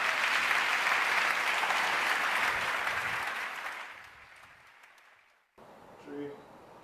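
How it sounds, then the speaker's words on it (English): Audience applause at a forum closing ceremony, loud sustained clapping that fades out over several seconds, followed by a brief quiet pause and a faint voice. "A round of applause, please,"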